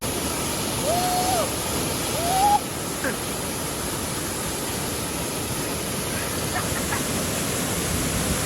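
Oliyappara waterfall in Kerala, a loud, steady broadband rush of falling water and spray heard up close, with a couple of brief whistles near the start.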